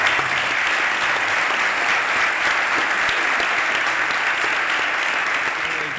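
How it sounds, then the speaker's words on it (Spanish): Sustained audience applause for two speakers at an expert panel on emerging economies, a dense, steady wash of clapping at even loudness throughout with no voices over it. "un aplauso para estos señores."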